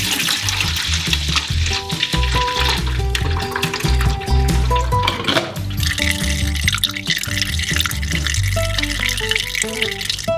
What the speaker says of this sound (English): You can pour through a sieve into a bucket.